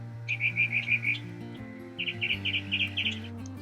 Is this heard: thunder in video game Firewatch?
no